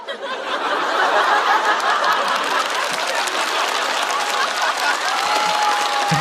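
A stand-up comedy audience gives dense, loud applause mixed with scattered chuckles and laughter, holding steady throughout.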